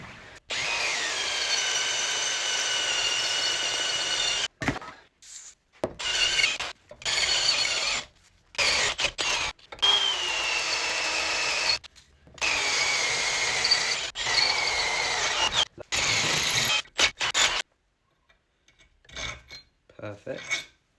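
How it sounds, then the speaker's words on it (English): A power drill bores a couple of holes through metal parts while a Hayter Harrier 41 lawnmower is restored, whirring in several loud bursts separated by short pauses and ending in quieter intermittent grinding. "we've got a couple more holes to drill out here"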